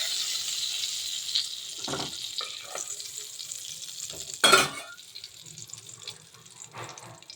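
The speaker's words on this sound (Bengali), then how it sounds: "ডিমটাকে ভালো করে সেদ্ধ করে নিয়ে আমি নুন হলুদ দিয়ে ভালো করে লাল লাল করে ভেজে নিলাম" Boiled eggs frying in oil with salt and turmeric in a pan, a steady hiss of sizzling with occasional scraping clatters of stirring, fairly close and moderately quiet.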